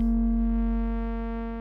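A sustained triangle-wave tone from the CubuSynth Arkarion synthesizer VCO, with a clear fundamental and a ladder of soft harmonics, steady and even, slowly tapering in level.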